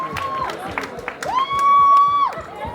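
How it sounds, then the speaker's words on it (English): Crowd cheering and clapping at the Trace Awards and Festival 2023 in Rwanda, with long, high, whistle-like calls rising above the steady roar of the audience. "Clap for her,"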